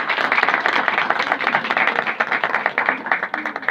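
Enthusiastic applause from a church congregation welcoming a pastor to the stage, dense rapid clapping running steadily throughout at fairly close range.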